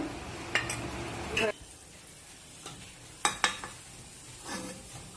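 Lal mohan sweets frying in hot oil make a soft sizzle under several clinks and scrapes of a utensil against the pan, close and fairly quiet, with no talking.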